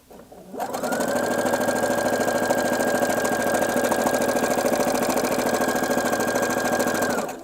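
A sewing machine runs a long, steady stitch down a cardigan seam, a loud, even mechanical whir that starts abruptly, holds for about six seconds, and stops.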